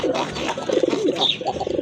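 A newly paired male and female pigeon at a large breeding farm give a brief burst of soft, rolling coos, close by and moderately loud, with a faint higher chirp near the end.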